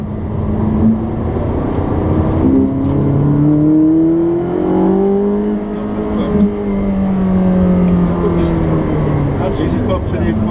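A Ferrari 458 engine roars steadily up close, its pitch sweeping up and down through shifts as the car slows hard, with a voice speaking over the engine note.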